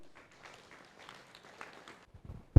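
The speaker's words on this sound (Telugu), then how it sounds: "ఇంకా పెద్దగా క్లాప్ చేద్దామండి." Applause from the audience at a community awareness meeting on building a Shakti Sthal in Narayanpet. Steady clapping rolls on for about two seconds, then thins out, and a sharp, loud knock lands near the end.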